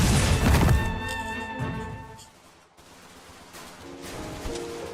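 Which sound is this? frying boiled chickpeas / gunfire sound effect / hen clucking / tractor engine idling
gunfire sound effect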